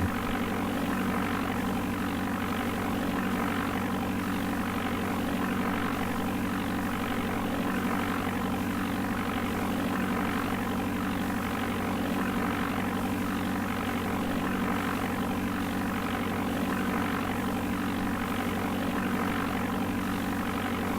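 A propeller airplane engine in the DOS game Flight Simulator 4 drones continuously, a loud, steady buzzing hum with even harmonics that never changes pitch or level, alone without voices.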